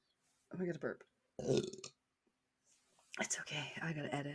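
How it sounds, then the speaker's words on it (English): A person burps loudly several times in close succession, with a faint whisper-like breath between the bursts and no other voices. "I got to burp."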